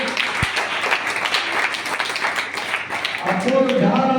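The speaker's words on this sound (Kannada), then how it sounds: "ಜೋರಾದ ಚಪ್ಪಾಳೆ." Loud applause from an audience at a memorial gathering for a devoted Basava follower, a dense crowd clapping that runs steadily throughout, with a voice speaking briefly near the end.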